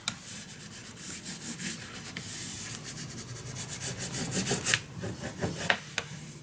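A tool rubs and burnishes paper down for a handmade mini album, giving repeated scraping strokes in irregular bursts that grow denser toward the end, close and alone.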